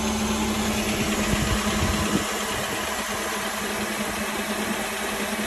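A 2014 Nissan Sentra SR idling steadily after an oil change, a constant close engine hum with a slight shift in tone partway through, no talking.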